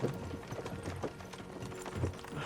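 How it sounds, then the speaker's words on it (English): Horses' hooves clip-clopping at a slow walking pace in the video game Kingdom Come: Deliverance 2, a steady close rhythm of hoof strikes with creaking tack underneath. "don't you think maybe we could make the horses go a little faster?"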